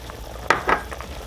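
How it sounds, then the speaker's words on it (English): A pot of chickpea stew bubbles and sizzles steadily up close, with a couple of short clinks or stirring scrapes in the middle. "The stew is boiling."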